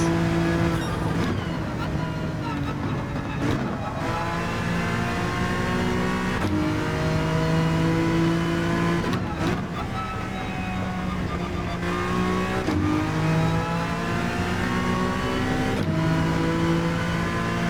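GT3 race car engine in Gran Turismo 7 holding a steady high drone with repeated rising and falling rev sweeps as it shifts through gears, loud and continuous throughout, with no talk over it.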